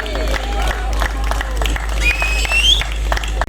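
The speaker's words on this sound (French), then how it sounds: "on peut les applaudir très fort s'il vous plaît" An audience applauds at an open day event, a steady wash of clapping and crowd noise with a few whistles and voices mixed in, and a low mains hum runs underneath.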